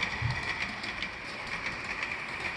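An HO scale model of a ten-car New York City subway train runs along the track with a steady, close mechanical whir and faint, even clicking from the rail joints, and no voices.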